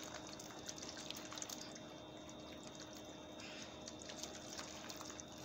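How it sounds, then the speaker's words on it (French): Water runs and trickles over a freshly polished car headlight during a rinse, a steady, quiet wash of splashing and dripping with no talk. "Donc, je vais rincer."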